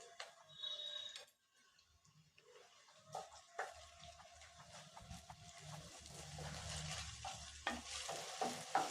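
Ginger garlic paste and green chillies sizzle and crackle in a hot pan while a utensil stirs and scrapes, starting quiet and growing into a steady fry.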